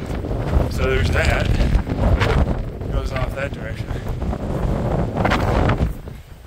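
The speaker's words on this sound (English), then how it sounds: "It's quite windy." Strong wind gusts buffet the microphone atop a hilltop on the Grasslands Wildlife Trail in Eagar, Arizona, a steady roaring rush with swelling surges, while someone talks briefly over it.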